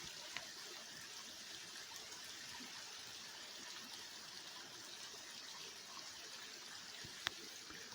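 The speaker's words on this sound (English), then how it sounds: "I can come take a walk and listen to the flowing water" Water trickles and flows steadily at a faint level, a soft continuous rush with no voices, broken only by a couple of tiny clicks.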